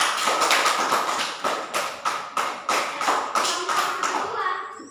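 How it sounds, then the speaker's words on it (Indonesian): An audience in a classroom claps for a group that has just presented, a close, loud burst of clapping with a clear repeated rhythm of accented beats that fades out at the end. "tepuk tangan dulu untuk kelompok 1"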